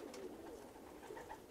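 Turkish flight pigeons cooing softly nearby, with low, faint, continuous murmuring calls and no voices.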